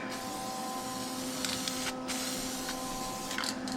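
Spray paint hissing onto a fender patch on a 1966 Mustang, a steady close airy hiss with a few brief bursts of nozzle spray over constant background hum.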